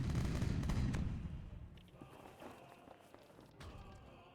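A heavy cannon volley in the pirate strategy game Age of Pirates: a loud booming burst at the start fades into scattered distant thuds and crackles, with a faint snap near the end.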